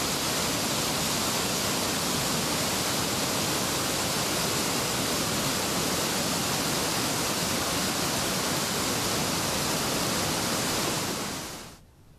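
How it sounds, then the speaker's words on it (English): The turbulent South Puyallup River rushes loudly and continuously on a mountain trail, a dense, unbroken roar of whitewater that cuts off abruptly at the very end. "The South Puyallup River was as turbulent as ever."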